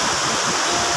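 Waterfall at Pucuk Raung, a steady broadband roar of falling water filling the whole second, loud and close with no voices over it.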